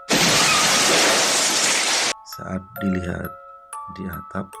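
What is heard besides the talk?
sound effect of roof tiles breaking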